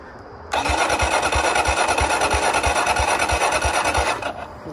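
A 2018 Kawasaki Z125 motorcycle with an aftermarket Ransetto exhaust starts after half a second, then idles with a loud, close, rapid pulsing putter for about four seconds before it fades.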